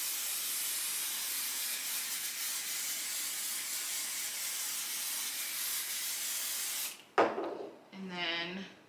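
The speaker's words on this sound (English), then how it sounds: "So now I'm going to spray the stabilizer." Spray adhesive hisses in a steady, continuous burst onto embroidery stabilizer for applique hooping, then cuts off abruptly, followed by a few brief handling noises.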